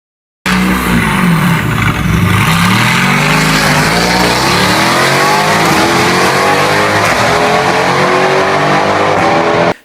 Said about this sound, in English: These cars, when they have an exhaust, they sound absolutely insane.